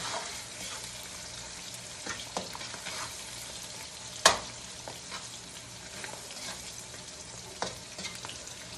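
Onions fry in a pan with a steady close sizzle and crackle for a home-cooked dish, broken by occasional stirring scrapes and one sharp clack near the middle, with no talking.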